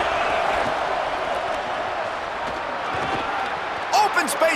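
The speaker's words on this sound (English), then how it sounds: "The roar of the crowd trying to fuel this defense to keep them pinned in their own end" Stadium crowd roar inside a college football video game, a steady loud wash of noise sustained throughout, with a few sharp knocks near the end.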